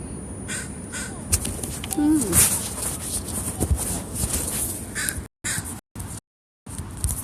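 Crows caw loudly nearby in a park, harsh repeated calls, amid outdoor background noise and some handling rustle, with brief dropouts near the end.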